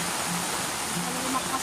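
Strong flowing water current, a close, loud, steady rushing wash with a soft low murmur of voices beneath.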